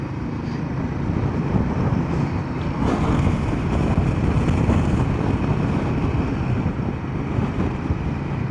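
Steady wind buffets the microphone outdoors on a ride near a lookout with moving trees, a continuous low, loud rumble throughout with no talking.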